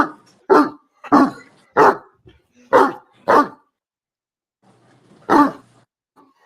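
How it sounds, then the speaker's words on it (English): A puppy barks in a series of loud, close yaps, about six in quick succession followed by a pause and one more, with no talking over it. "The puppy that wants to play."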